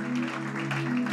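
Church congregation applauding and cheering for people who have come forward, a steady dense wash of clapping with a sustained organ or keyboard chord held underneath throughout.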